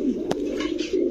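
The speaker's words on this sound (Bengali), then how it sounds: "মাশাআল্লাহ খুবই সুন্দর একটা কবুতর।" A crested Saharanpuri pigeon gives a soft, low coo that runs steadily through the moment, heard close by with a brief sharper noise partway through.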